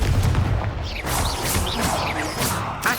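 Repeated Confringo blasting-spell explosions in Hogwarts Legacy: several sharp, loud bursts with crashing impacts and whooshing tails, one after another, with no talking.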